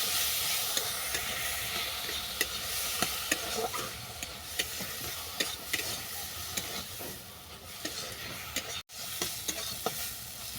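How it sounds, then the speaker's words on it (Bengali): Water lily stems fry in a pan with a soft, steady sizzle throughout. Small scraping clicks from stirring recur at irregular moments, and no voices are present. "শাপলাটাকে ভালো করে ভেজে নিচ্ছি"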